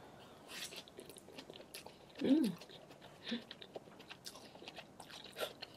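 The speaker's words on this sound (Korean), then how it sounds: "도상면 칠리 누들 먹어볼게요" Close mouth sounds of someone eating chili noodles with crunchy bean sprouts: soft chewing, one louder crunchy bite near the middle, then a few fainter chews, with no talk.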